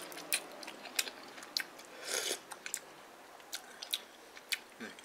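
Someone eats fat wonton noodles and water dog dumplings (sui gao), with soft close-up chewing and scattered light clicks and smacks at an irregular rhythm over a quiet background, plus a brief rustle in the middle.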